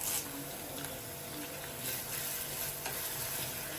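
Chopped ginger, green chilies and curry leaves fry in hot oil for inji puli, a dense even sizzle up close with faint stirring scrapes and no talk.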